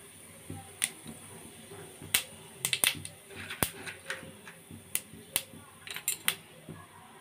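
Cumin seeds are dropped into hot oil, giving a scatter of sharp, close crackles and pops at an irregular rhythm, with a voice faintly underneath.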